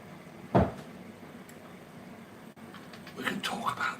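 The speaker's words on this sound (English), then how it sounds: "I'm just going to shut this door." A door is shut in a home kitchen with a single sharp thud up close, followed by a quieter stretch and then someone talking.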